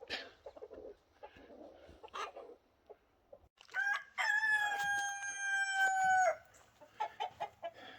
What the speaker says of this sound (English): Roosters crow all the time.